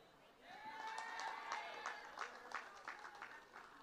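An audience at a PNM community meeting in Chaguanas, Trinidad and Tobago, claps in a brief, faint round of applause that swells and then thins out into scattered claps, heard from a distance.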